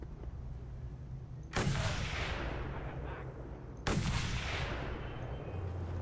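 Two sniper rifle shots in the Mad Max video game, each a sharp loud crack with a long echoing rumble, spaced a couple of seconds apart over a low ambient drone.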